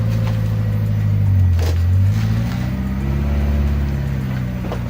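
A McLaren engine revs loudly nearby, a deep rumbling tone swelling and dipping over several seconds with steady mechanical roar throughout.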